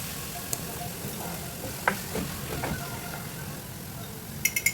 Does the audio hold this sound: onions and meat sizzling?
yes